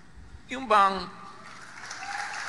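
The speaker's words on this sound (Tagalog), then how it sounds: "talaga, may mga palakpak pa yan." A church congregation claps briefly during a sermon in Filipino, a soft wash of applause that swells behind and after the preacher's voice.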